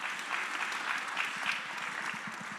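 A crowd at a conference closing ceremony claps steadily and fairly loudly throughout, a continuous wash of applause with no talking.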